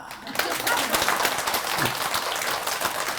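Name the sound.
audience applause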